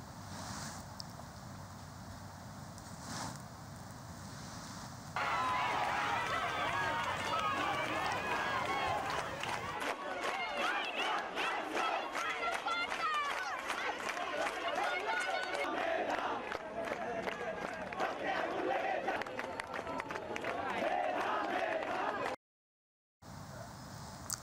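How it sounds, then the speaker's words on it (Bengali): Students gathered at a campus sculpture, protesting loudly for quota reform, their crowd noise swelling into dense chanting and shouts with footsteps and scuffling, after a quieter stretch with a voice speaking. "আজও রাজু ভাস্কর্যের সামনে জড়ো হয়ে কোটা সংস্কারের দাবিতে বিক্ষোভ করছেন বিভিন্ন হলের শিক্ষার্থীরা"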